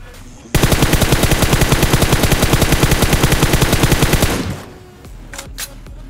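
Automatic gunfire in the battle royale video game PUBG Mobile: a loud, close, unbroken rapid burst that lasts about four seconds and then cuts off, leaving faint game noise and a few scattered clicks.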